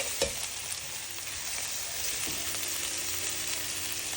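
Meatballs fry with onions and seasoning in a pan, giving a constant close sizzle with a few faint stirring knocks and no talk over it.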